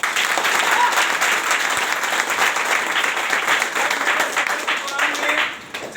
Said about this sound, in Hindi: मैं चाहता हूँ मिस्टर आशीष सर को जोड़ो ताली।